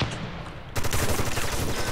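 Rapid gunfire in the military shooter America's Army: Proving Grounds, a dense rattling volley that bursts in loud after a quieter moment and keeps going without letup.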